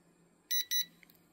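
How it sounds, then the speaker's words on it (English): Two short, bright electronic beeps in quick succession from a TopTes PT210S combustible gas leak detector over faint background hum, the second following right after the first. "After 30 seconds, you'll hear that beep"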